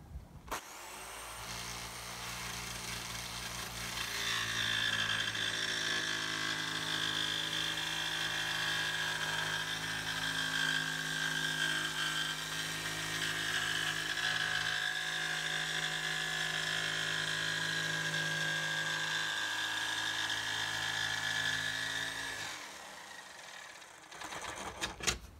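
A jigsaw fitted with a sheet metal blade cuts through wood flooring for a Volkswagen Beetle, a steady loud buzzing drone running nearly twenty seconds before winding down, with no talking.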